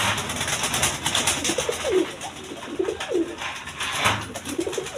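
Several pigeons coo in a repeated, soft rhythm at a Bangladeshi pigeon seller's, the bird calls fairly close and steady against a busy, noisy background with no talk.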